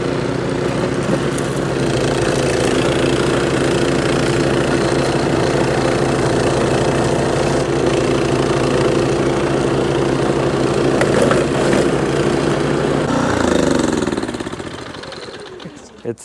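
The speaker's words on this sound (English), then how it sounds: "Briggs and Stratton 1024 snowblower" Briggs and Stratton 1024 snowblower engine running at a steady, loud, close drone with a rough idle-like pulse, then winding down and fading out near the end.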